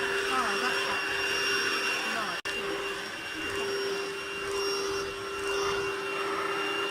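A Lidl cordless Hoover vacuum cleaner runs steadily over carpet with a loud, even high-pitched motor whine and airflow, close up, cutting out for an instant midway.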